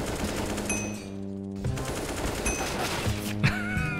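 Rapid automatic gunfire in Counter-Strike: Global Offensive rattles in dense bursts with short pauses between, loud and close over a background hum.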